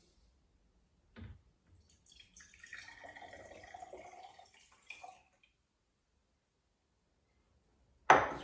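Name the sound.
water poured into vintage Kambrook espresso machine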